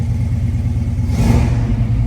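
A 1967 Chevrolet Camaro with a 396 V8, tuned carburetor and mild cam idles with a loud lumpy rumble, then blips briefly to higher revs and settles, heard close with no talking.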